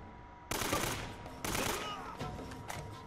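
Pistol shots in Uncharted: Drake's Fortune, two loud close cracks about a second apart followed by fainter scattered firing, with no talking over them.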